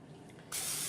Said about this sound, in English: I'm just going to spray it because that's what I want to do